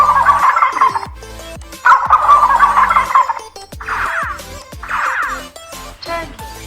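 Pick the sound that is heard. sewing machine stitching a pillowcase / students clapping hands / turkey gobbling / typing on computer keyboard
turkey gobbling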